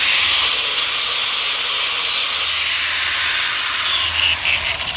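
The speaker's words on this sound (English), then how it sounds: "I took a little stone grinder and I just cleaned up the edges" A small stone grinder cleaning up the edges of solid mounts in a vise, close and loud: a continuous high, hissing grind that holds steady and tapers slightly at the end.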